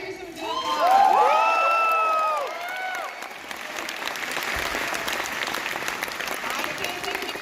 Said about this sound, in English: I hear some good applause.